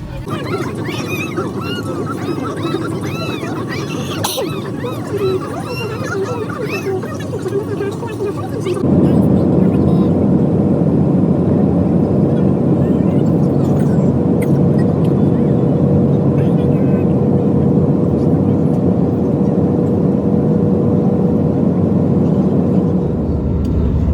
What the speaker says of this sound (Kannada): ಪ್ಲೇನ್ ಟೇಕ್ ಆಫ್ ಎಲ್ಲ ಆಗಿದೆ